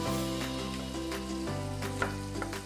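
Onion cubes fry in a pan for a chicken casserole with a steady, close, loud sizzle, broken by a few scraping stirs.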